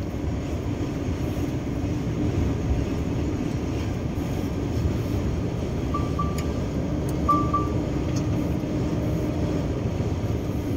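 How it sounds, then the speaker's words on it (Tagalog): A dump truck passes on a mountain road beside a slope, its broad low rumble blending into the steady engine and road roar of a vehicle moving fast, loud and continuous throughout. "Oh, may dump truck din, oh."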